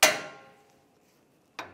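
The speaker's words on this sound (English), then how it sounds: "just hit it with a hammer" A single sharp metallic hammer strike on a Jeep Wrangler steering knuckle rings out and decays, then after a pause a second hit lands near the end.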